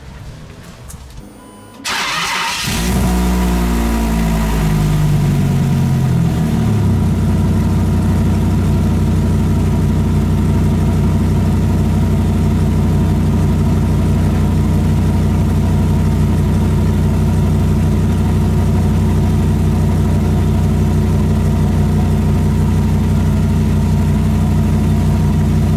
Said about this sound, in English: Now what I'm going to go do is start the vehicle and let's see if any like holes appear.